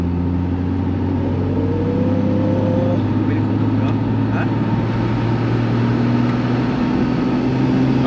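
Turbocharged BMW E36 328i touring engine at full throttle, a steady loud droning roar with a rising whine partway through, sustained close by for about eight seconds.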